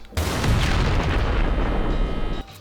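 A loud, sustained blast of explosive booming and crackling from a car's weapon in a driving video game erupts at once, rumbling continuously for a couple of seconds before cutting off abruptly.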